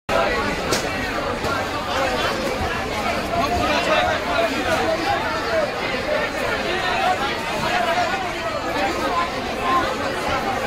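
Dense, steady crowd chatter fills busy Kolkata New Market during Pujo festival shopping, a loud unbroken babble of many voices close by with faint traffic mixed in.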